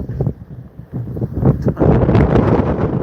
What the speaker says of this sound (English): wind is bonkers.